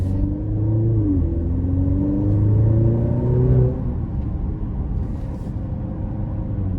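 A 2023 Maserati Grecale Modena SUV's engine rumbles and climbs in pitch under hard acceleration, rising through two gear pulls before easing into a steadier drone, heard from inside the cabin.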